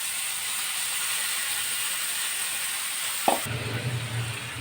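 Cabbage fries with Kashmiri chilli powder, sugar, cumin and salt, making a steady close hiss of sizzling. Near the end a brief clatter of stirring sounds, and the tone then shifts a little.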